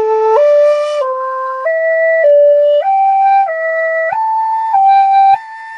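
Native American flute playing a minor pentatonic scale pattern, about nine clear, sustained notes stepping up and down in turn, played alone and close.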